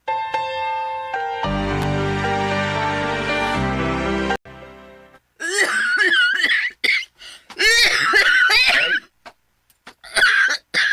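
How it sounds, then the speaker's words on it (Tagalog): Several short coughs break out between stretches of talking, following a few seconds of sustained music at the start. "Nausa naman ang ubo ni mo, eh."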